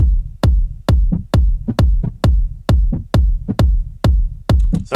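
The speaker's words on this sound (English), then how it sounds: "it's just literally like a heartbeat sounds that I found on" A heartbeat sample from Splice pairs with a kick drum in a house track, a steady loop of punchy low thumps in doubled beats, loud, close and alone.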